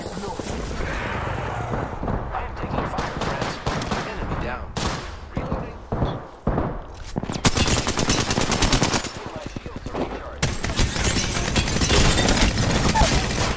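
Rapid automatic gunfire in a battle-royale style video game, loud and close, in dense bursts and sustained runs with a few brief pauses, while a player talks over it.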